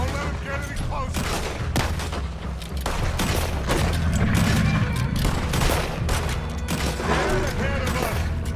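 Rapid gunfire crackles almost without pause in a Red Dead Redemption 2 shootout, dense volleys of shots with booming reports layered over one another, while voices shout beneath the clatter.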